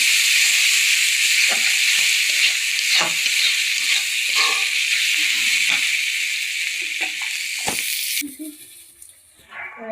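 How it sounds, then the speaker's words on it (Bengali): Spice paste for fish curry sizzles steadily in hot oil, a close, bright hiss broken by soft scrapes of stirring, before the sizzle suddenly drops away near the end. "এই যে মশলাটা আমি সুন্দর করে কষাই নেবো মাছ রান্নার জন্য।"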